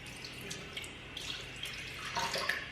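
Juice is poured into a blender for a farmhouse smoothie, producing a soft, quiet liquid trickle and splash that grows a little louder toward the end.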